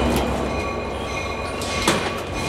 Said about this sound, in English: So this train is called the Empire Builder, and it has to be one of the most iconic trains in the entire Amtrak fleet.